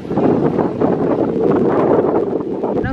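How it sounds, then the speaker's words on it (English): Loud, constant wind roars against the microphone at a beach in the Dominican Republic, a dense rushing noise with gusty swells throughout. "it's extremely windy, so you probably can't even hear me"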